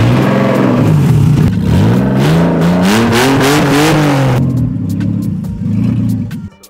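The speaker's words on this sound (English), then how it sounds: "It's very loud, mate. Yeah, it's got no exhaust." A BMW E30 fitted with an M54 engine and no exhaust revs hard and loud, the raw engine note rising and falling through several sweeps before dropping to a rough idle near the end.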